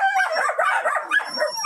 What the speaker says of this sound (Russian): собачка.